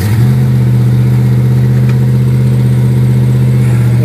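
Car engine running steadily after being started outdoors, a loud, close, constant low drone with slight revving and no voices.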